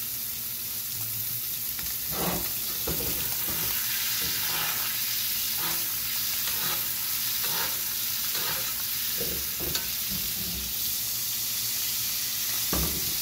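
Steak basting in a pan with onion, thyme and garlic sizzles and hisses steadily and close, with repeated spoon scrapes and splashes breaking through the frying noise and no one talking.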